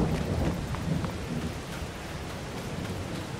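Steady rain hiss with low thunder rumbling strongest at the start, in a farming video game on PS5 as night falls over the farm; the rumble fades while the rain continues evenly.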